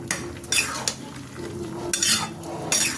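A utensil stirs cauliflower, potato and paneer frying in a pan, with several sharp scraping strokes against the metal over a soft steady sizzle, close and clear with no talking.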